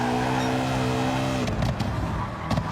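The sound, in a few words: race car accelerating in video game Gran Turismo 7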